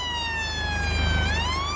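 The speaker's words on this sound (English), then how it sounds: "Seems to be a lot of the police cars about at the moment," A police car siren in Farming Simulator 19 wails loud and close, with a rising and falling electronic tone sweep over a steady engine drone.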